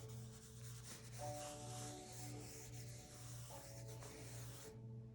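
Light, steady rubbing on paper laid over a marbling bath in a Korean fan paper-marbling craft, a continuous soft scrubbing hiss lasting several seconds, close and alone, ending abruptly.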